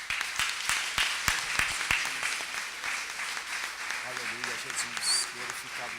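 Members of a church congregation at a Vale da Bênção worship service clap in a burst of sharp, separate claps near the start, then voices and music carry on with only scattered claps beneath them.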